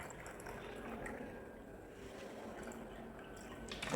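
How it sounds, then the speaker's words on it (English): Water added to a container in a student engineering project, a soft continuous trickle and dribble with light splashy drips, fairly quiet and close, with no talk over it. "So let's add some more water."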